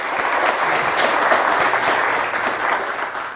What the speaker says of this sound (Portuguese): Eu quero uma salva de palmas aí pro Thiago.